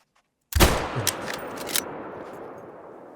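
A single rifle shot fired at a deer in the hunting game Call of the Wild, Yukon reserve, a sharp loud crack that rolls into a long fading echo over quiet outdoor ambience.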